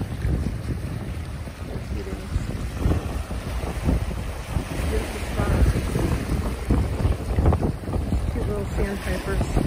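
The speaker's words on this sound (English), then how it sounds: "Just hanging out by the Atlantic Ocean." Wind and surf at an Atlantic Ocean beach in Westport MA: steady gusting wind buffets the microphone over a low, continuous wash of waves, loud and close throughout.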